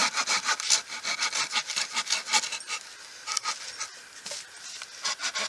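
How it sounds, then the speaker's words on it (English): A compact Browning hand saw cuts through damp wood in a steady, rhythmic run of close, rasping strokes that slow briefly near the end, with no talking. "I love this saw though."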